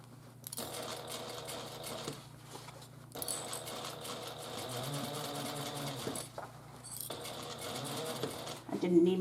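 A sewing machine with a presser foot stitches along a fabric edge while piping a handbag exterior, whirring steadily up close in several runs with short pauses between them, and a voice talks over the stitching.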